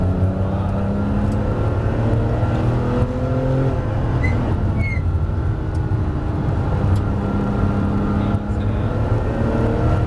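Porsche 997 GT3 Club Sport race car accelerating on track: a loud, continuous engine roar with rising pitch sweeps through the gears, heard from inside the cabin while a driving instructor talks over it.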